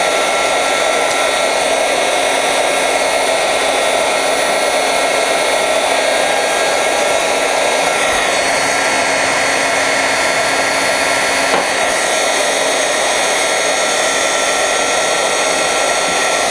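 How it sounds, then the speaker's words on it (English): A heat gun blows steadily while warming adhesive paper to loosen it, a loud, even whirring roar close by that runs unbroken throughout. "this heat gun does a pretty good job at causing this stuff to kind of loosen up"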